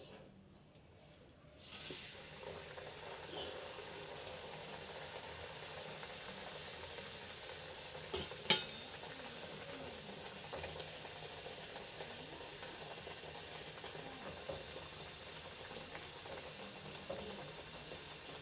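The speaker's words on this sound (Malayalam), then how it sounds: "പൊരിച്ച പത്തിരി പൊരിച്ച പത്തിരി" Pathiri, a Kerala flatbread made from dough, fries in hot oil with a quiet, continuous sizzle and bubbling that runs throughout, punctuated by a couple of soft clinks.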